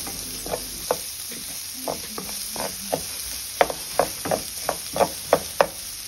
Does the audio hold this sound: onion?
yes